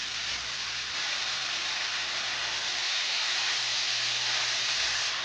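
Beef tips simmer in a pan, giving a steady, loud sizzling hiss that runs unbroken throughout with a faint low hum beneath, and no voices.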